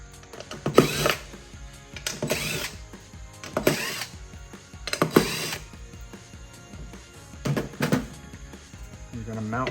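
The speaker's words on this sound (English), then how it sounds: "Take these 6 screws out." Six screws are removed from a BEC MX 1200 unit for bus installation with a power driver. It makes several short whirring, ratcheting bursts separated by pauses, fairly close and loud, with faint talk in between.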